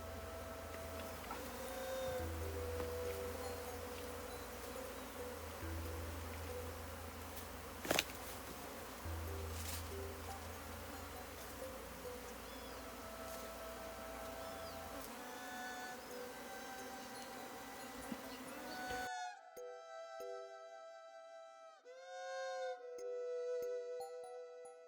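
Honeybees in a hive on a tool shed make a dense, steady buzzing drone for most of the stretch, which then gives way abruptly to a cleaner, tonal musical passage near the end.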